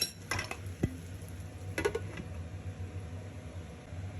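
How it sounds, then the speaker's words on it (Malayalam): Tomatoes are stirred and mixed in a cooking pot, a utensil clinking and scraping against the metal a few times up close over a faint steady hum. "തക്കാളി നന്നായിട്ട് ഇളക്കി യോജിപ്പിക്കുക"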